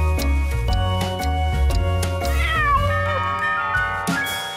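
A cartoon cat meows once in a rising-then-falling cry over a bright nursery-rhyme music track with steady beat, the meow clear and prominent in the middle.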